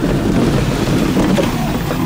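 Strong, continuous wind rush buffets the microphone while riding an electric vehicle outdoors on an island, a dense roar with no speech.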